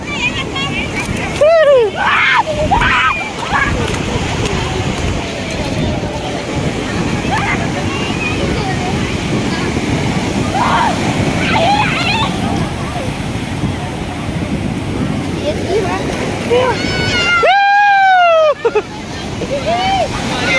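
Sea surf washes in continuously at Puri beach, a broad rushing roar with gusts of wind buffeting the microphone, while people nearby chatter and shout over the waves.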